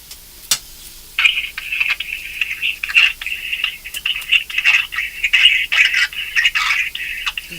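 Telephone ringing on the line during a radio prank call: a steady high electronic ring tone pulsing in bursts for several seconds after a brief click, fairly loud with no talk over it.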